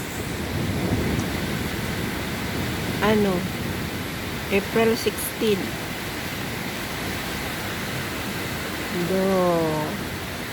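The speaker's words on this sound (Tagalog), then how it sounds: "lakas ng ulan guys" Heavy rain pours steadily outside a window as a continuous broadband hiss, with a person speaking briefly several times over it.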